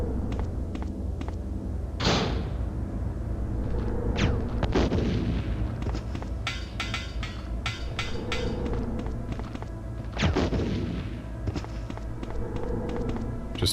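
Bazooka fire in the 1996 Resident Evil game, several heavy booming blasts spaced seconds apart over a dense, rumbling game soundscape with clanks and thuds, no talking.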